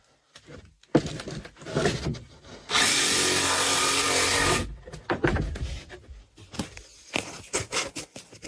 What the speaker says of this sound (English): she's power tooling wood